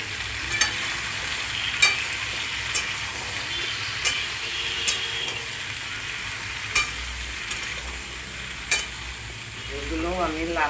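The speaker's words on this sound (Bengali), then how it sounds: "ভালো করে ভেজে নেব আমি আলু পটলের তরকারির জন্য" Potato and pointed gourd pieces frying in oil with salt and turmeric, a constant loud sizzle punctuated by regular sharp spatula scrapes and taps against the pan, roughly every second.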